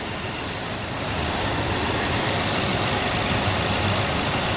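A small turbocharged four-cylinder car engine idling steadily while hot, a close, continuous mechanical hum with a faint tick throughout and no voices.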